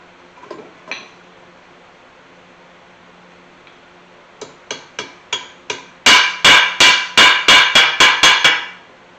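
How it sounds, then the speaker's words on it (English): Metallic hammer taps seating a U-joint retaining ring on a 1981 Chevy C10 squarebody, a few soft knocks, then a run of lighter taps growing louder, ending in about ten sharp, evenly spaced strikes close by. "tap it back against that clip until I can see my groove for my ring over here"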